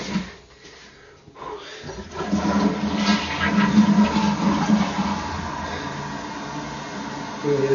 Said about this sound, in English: I'm gonna get this whole bunch of flushes until I see a good gush of water